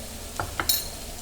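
Mushrooms cook in a pan with a steady soft sizzle, broken by a few light clinks of a utensil against the pan and a brief sharp scrape.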